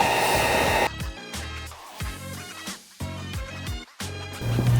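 Heat gun blowing hot air onto tint film on a 2022-2024 Chevrolet Equinox taillight, a steady close roar for about a second, then intermittent bursts with short pauses as the film is worked.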